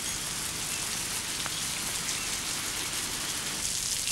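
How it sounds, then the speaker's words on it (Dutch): Dense, steady tropical downpour hissing on surfaces on Midway Island, heavy rain drumming continuously with no voices. "In een heftige tropische regenbui happen de albatrossen naar de dikke regendruppels"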